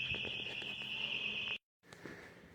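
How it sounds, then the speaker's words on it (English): A security alarm sounds in a hospital, a loud, steady high-pitched tone that cuts off abruptly, followed by brief quiet and faint room noise. "set off the alarm."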